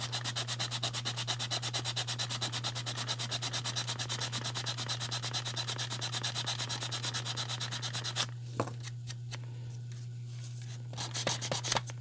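Sandpaper of 80 grit rubbing steadily against the side of a scale model car body's flare, a close, continuous rhythmic scraping that stops after about eight seconds, leaving a few faint scuffs over a low steady hum.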